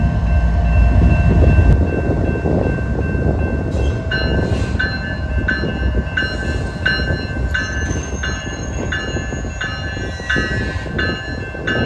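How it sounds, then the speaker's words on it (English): Norfolk Southern coal train creeping slowly up to a crossing, a loud close rumble of heavy cars with regular clanking and wheel squeal, steady throughout with no talk. "Then this Norfolk Southern coal train inched up closer."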